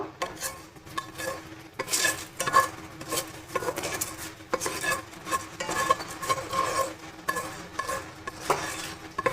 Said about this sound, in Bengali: শুকনো ফ্রাইং প্যানে ভালো করে নেড়ে নেব।